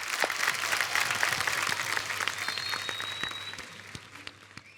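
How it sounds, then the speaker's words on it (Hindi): Studio audience applause on a television comedy show, a steady wash of many hands clapping with a few sharp individual claps standing out, fading gradually as it goes on. "जोरदार तालियां एक बार"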